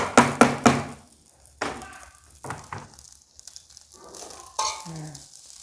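Fried rice with lime leaves being stirred and fried in a pan: loud scraping strokes at first, then quieter bursts of stirring over a faint sizzle.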